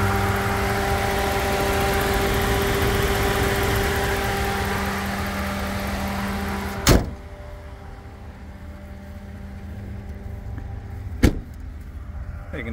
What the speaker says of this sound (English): engine's running nice and clean